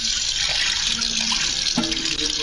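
A tap runs steadily into a sink as someone gets water, a bright continuous splashing hiss heard up close, with faint tonal clinks underneath.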